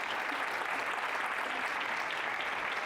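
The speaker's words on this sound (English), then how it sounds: "if you can give them a big round of applause" Sustained audience applause at a chiropractic congress in Germany, a dense, even wash of many hands clapping that stays loud and close throughout without pause.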